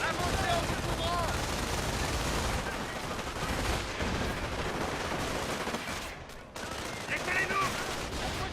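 Submachine gun fire in the video game Company of Heroes, in a paratrooper battle at Cauquigny: dense, loud bursts of automatic fire and overlapping gunshots run almost continuously, with battlefield noise and voices mixed in.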